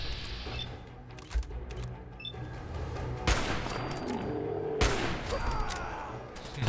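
Gunfire in the video game Fallout 4 on survival difficulty, two loud separate shots with echoing tails over a low game ambience, no talking in between.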